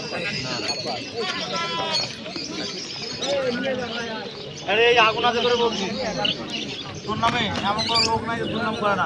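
Many pigeons coo and birds chirp in a busy crowd at a bird market, loud and close, while people talk over the birdsong.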